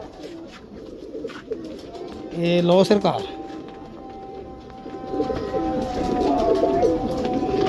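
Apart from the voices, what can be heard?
double-collar Kasuri pigeon cooing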